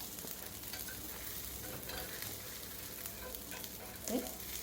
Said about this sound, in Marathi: असं पलटायचं आहे.